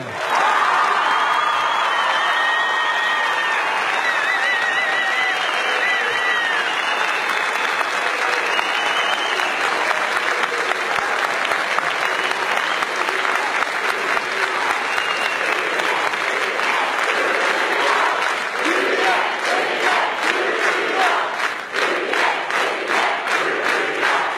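A large crowd applauds and cheers right after a shouted religious slogan, sustained loud clapping filling the space with rhythmic claps becoming more distinct near the end.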